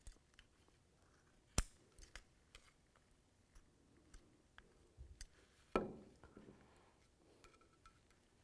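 Scissors trim excess backing material during a tail light install on a 2007-2013 Chevrolet Silverado, giving a few sharp, close snips, one loud cut near the start and another later, over a quiet background.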